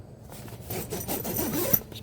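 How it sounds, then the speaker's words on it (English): The zipper on the back door of a luxury inflatable deer camp tent is pulled along its track, giving a steady raspy rubbing sound that runs for about two seconds, close and moderately loud, with no talking. "The zippers are so easy to pull."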